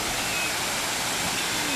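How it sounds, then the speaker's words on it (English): Water falls into a ravine at Valara Waterfalls in Kerala, making a steady, dense rushing wash with no breaks. "This is the ravine where the water falls, and where it goes is not visible."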